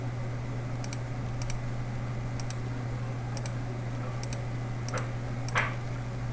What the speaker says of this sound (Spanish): Aprieto Shift de nuevo.